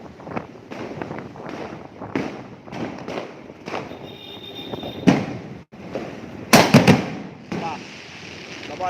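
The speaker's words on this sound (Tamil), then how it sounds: "டபால் வெடிக்கிறாங்க பட்டாசு" Sharp Diwali firecracker bangs burst irregularly, some near and loud, others farther off, amid wind buffeting and background voices.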